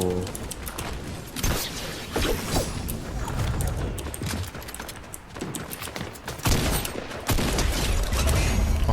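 Rapid SMG fire in a first-person shooter game, dense bursts of gunshots rattling almost continuously with a few short gaps, loud and close.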